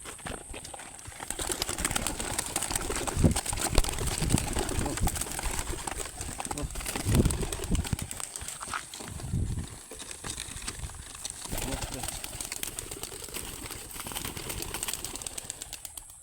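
Racing pigeons released from a spot in Victoria fly off together, with a steady rustle of flapping wings over constant outdoor background noise and occasional voices.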